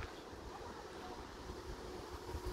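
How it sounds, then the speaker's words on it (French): Light wind rustling outdoors ahead of a thunderstorm, a faint, steady low rumble and soft broadband noise buffeting the microphone, with no voices. "Légèrement du vent là."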